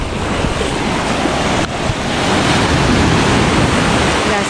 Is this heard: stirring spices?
no